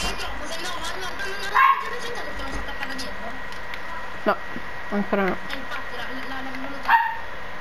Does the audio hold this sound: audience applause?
no